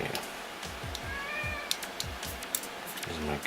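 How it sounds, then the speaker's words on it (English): A house cat meows indoors, several short rising cries in quick succession, fairly close and clear, while a person talks over part of it. "There's my cat."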